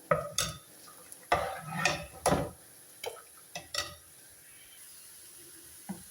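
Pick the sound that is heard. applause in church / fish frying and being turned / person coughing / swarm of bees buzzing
fish frying and being turned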